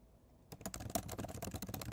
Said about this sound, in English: your typing is so loud.